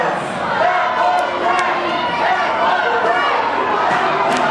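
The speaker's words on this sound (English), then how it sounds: "The crowd is irate." An irate crowd shouts and jeers throughout at a 2009 wrestling world title match, a loud, continuous roar of voices with a few sharp bangs cutting through.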